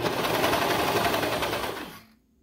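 A serger sewing machine stitches sweater dress fabric in a fast, even, whirring run for about two seconds, then winds down and stops, leaving silence.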